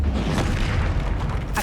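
A fiery Incendio spell explodes in the video game Hogwarts Legacy as a loud, sustained booming roar with heavy low rumble, swelling briefly and ending in a sharp crackling burst.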